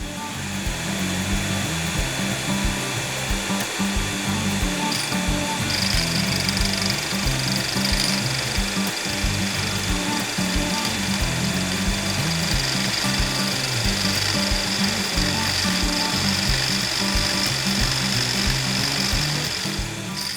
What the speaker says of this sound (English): you have to lower the stone all the way down and then up until you hear a grinding noise